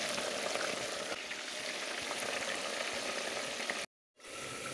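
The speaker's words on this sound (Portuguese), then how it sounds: "Aí eu vou deixar essa carne fritando assim por uns 5 minutos mais ou menos." Pork belly pieces fry in hot oil in a pressure-cooker pot with a steady, dense sizzle and crackle that runs unbroken, drops out briefly near the end, then returns.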